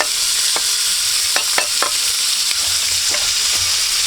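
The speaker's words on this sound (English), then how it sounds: "those onions, we're sauteing them" Onions and vegetables sautéing in a preheated skillet at an RV camp kitchen, a steady bright sizzle with a few scattered clinks and scrapes of stirring, no talking.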